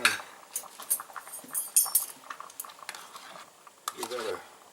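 A Hawaiian shrimp dish stirred in a metal canteen cup just after it comes to a boil: light scraping and clinking of a utensil against metal in irregular taps, with a faint bubbling beneath.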